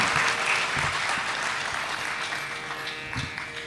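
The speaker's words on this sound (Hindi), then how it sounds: "आपके सामने ओमकार दादरकर जी उपस्थित हैं, तालियों से इनका अभिनंदन करें।" Applause from a seated audience welcoming a guest onto the stage at a Hindustani classical vocal concert, a steady dense clapping that holds throughout and tapers slightly toward the end, with no talking over it.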